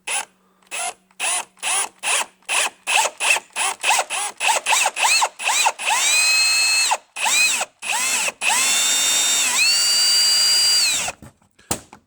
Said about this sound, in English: What I want to do is just drill a pilot hole at that spot.